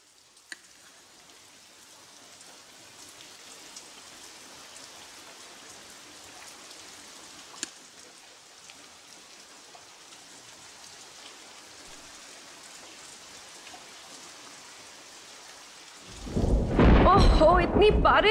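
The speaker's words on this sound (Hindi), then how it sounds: "ओहो, इतनी बारिश!" Heavy rain falls steadily in a thunderstorm, a soft constant hiss with a few faint cracks, then a loud close downpour or thunder burst surges in over the last two seconds.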